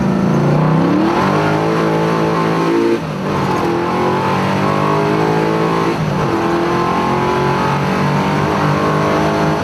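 A 1972 Nova engine revs loudly and steadily nearby, its pitch climbing and dropping in repeated waves as the throttle is blipped.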